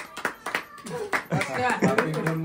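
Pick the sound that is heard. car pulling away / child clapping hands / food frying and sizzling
child clapping hands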